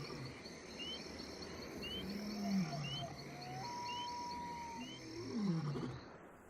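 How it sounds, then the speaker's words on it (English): Lions roar far off in the pre-dawn African bush, deep drawn-out calls rising twice above a steady wash of chirping insects and faint bird notes, distant and moderately quiet. "Heard the lions roaring off in the distance"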